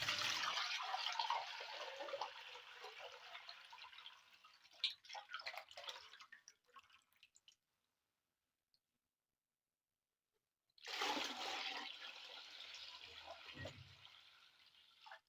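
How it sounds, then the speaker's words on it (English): Castor juice pours into a cooking pot in two bursts of close, splashy liquid noise separated by a silent gap of several seconds. "Transfer the castor juice into a cooking pot."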